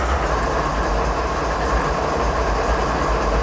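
Steady rumbling of a train in a train simulator game, a constant low mechanical roar with no breaks.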